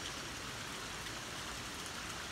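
Water poured onto a folded taro leaf gives a steady, soft, hissing splash that stays even throughout, faint and close with no talking.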